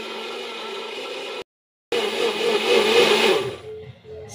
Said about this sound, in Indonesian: Sekarang blender bumbunya.